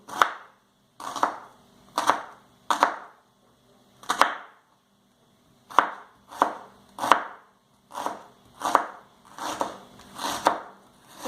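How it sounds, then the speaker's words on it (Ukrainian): A knife dices an onion on a board in short bursts of quick, sharp strokes with brief pauses between, close and clear with no talking. "Для початку наріжемо мілким кубиком цибульку."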